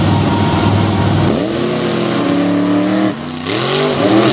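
Two Ford mud trucks, a black and green one from Maryland and a multicolored one from Delaware, race through a mud pit in a Renegade mud truck event in Greensburg, PA, engines roaring loud and close with rising revs and gear shifts.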